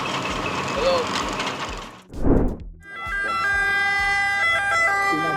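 An ambulance siren wails on the road in winter, swelling loudly in a single rising sweep before steady mixed traffic and other noise take over.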